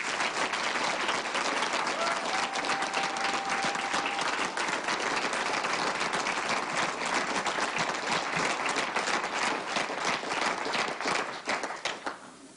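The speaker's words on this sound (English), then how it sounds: "they deserve a big round of applause" Sustained applause from campaign supporters at a governor's race concession event, a dense continuous crowd of clapping lasting many seconds before tapering off at the end.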